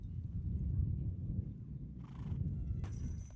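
Horses of a roping team riding into a rodeo arena at Velocity Ranch, faint low hoof thuds and rumble in the distance with a couple of brief scraping or jangling sounds, quiet overall.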